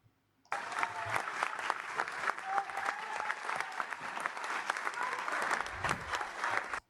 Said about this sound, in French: Pourquoi ils applaudissent tous?